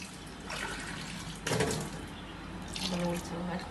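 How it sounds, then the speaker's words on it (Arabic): Water poured into a heavy dough mixture for crispy cigar pastries, a running, splashy pour from a tap or cup with a louder burst midway, heard close up with some background noise. "الخليط جاني ثقيل، غنزيد الماء."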